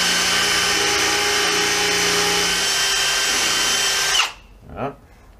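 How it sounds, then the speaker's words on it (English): A DeWalt D25301D SDS drill whines steadily at high speed for about four seconds while drilling and countersinking, then cuts off and spins down, leaving a brief quieter rattle. "I shall countersink and drill."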